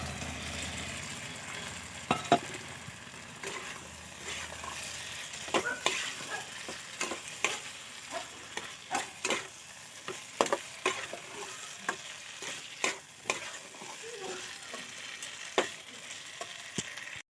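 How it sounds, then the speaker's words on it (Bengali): Cauliflower florets fry and get stirred in a pan with Kashmiri red chili powder, a continuous sizzle punctuated by repeated sharp scraping and clinking strokes of a spatula, close and fairly loud with no talk. "এবার কাশ্মীরি রেড চিলি পাউডার এক চামচ দিয়ে দেবো আবারও ভালো করে কষিয়ে ভেজে নেওয়া ফুলকপিগুলো দিয়ে দেবো"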